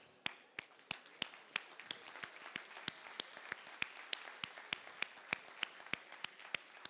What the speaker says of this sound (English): let's give ourselves an applause for that